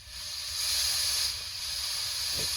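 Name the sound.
compressed air blowing transmission oil into a tray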